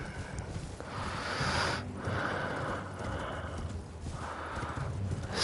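Hooves beat in a steady galloping rhythm in the video game Elden Ring, loud and close, with rushing wind-like noise surging and fading throughout.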